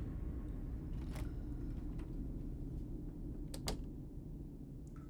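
In a video game, a door creaks open with a few dry scraping and clicking creaks over a constant low rumbling ambience, faint and intermittent.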